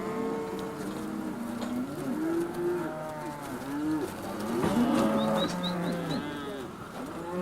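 Cattle lowing on a large Hawaiian cattle ranch, a few drawn-out moos overlapping against a steady outdoor background, with some faint bird calls near the end.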